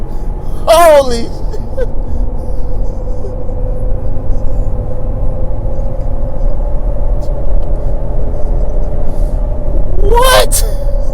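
Lifted Ford F150 EcoBoost with a performance tune launching hard, engine roaring steadily under a constant low rumble while tires spin, with sharp excited shouts near the start and end.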